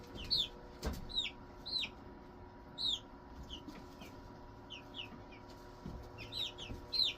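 Chickens in a brooder give a series of soft, repeated clucks and chirps at moderate distance over a quiet background hum, with no talking.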